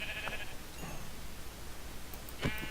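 Sheep bleat in Minecraft, struck during survival play: a bleat near the start, a fainter one in the middle and a louder bleat close to the end over a steady game background.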